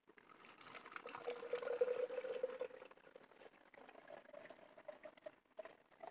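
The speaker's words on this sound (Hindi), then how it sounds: "सबसे पहले डालेंगे इसके अंदर पानी" Water pours steadily into a protein shaker for several seconds, the stream's pitch holding and then rising as it fills, followed by faint clattering.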